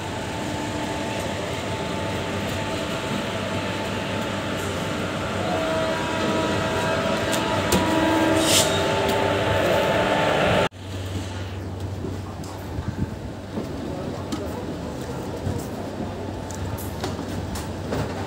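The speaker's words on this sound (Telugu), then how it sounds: "ఇంకోటి ముంబై నుంచి హైదరాబాద్కి వెళ్ళడానికి రెడీగా ఉంది ప్లాట్ఫామ్ పైన." At a station platform, the Mumbai–Hyderabad Express 17031 gives a steady loud rumble and hum of a standing or slowly moving train, with an air-conditioning drone and a sudden drop in the noise midway.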